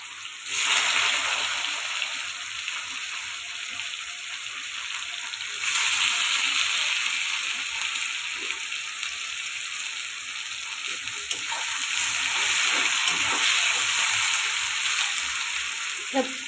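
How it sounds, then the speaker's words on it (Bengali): Onions frying in hot oil until reddish for a Bengali mutton and potato curry, a steady loud sizzle that swells and eases in waves across the whole stretch, with only faint background noise. "পেঁয়াজটা লাল লাল করে ভেজে নিব"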